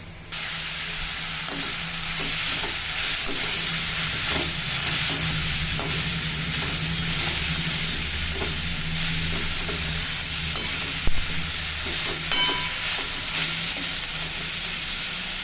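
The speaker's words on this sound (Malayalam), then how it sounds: "ഉള്ളിയുടെ നിറം ഒന്ന് ബ്രൗൺ ആവുന്നവരെ വഴറ്റണം." Onions sautéing in a pan for a north Indian chowli dal, with a steady close sizzle and frying hiss throughout and repeated soft scrapes of a spoon stirring them.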